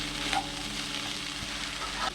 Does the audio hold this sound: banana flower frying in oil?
yes